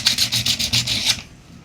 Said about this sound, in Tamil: ராடு வந்து பாலிஷ் பண்ணியாச்சு.